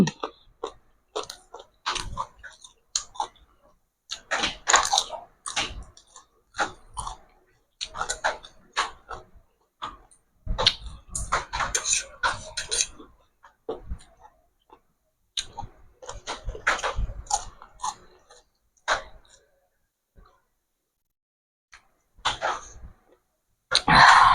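Crunchy apple snails are chewed with a noodle salad, giving bursts of close, crisp crunching and munching with short pauses between bites over about twenty seconds.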